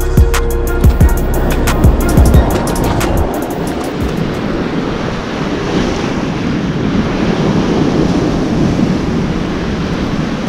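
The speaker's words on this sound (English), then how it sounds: "you can see that wave right behind it is just rolling in" Ocean waves rolling in against a rocky shore, a loud continuous wash of surf with heavy wind buffeting the microphone and several sharp knocks early on before the roar settles.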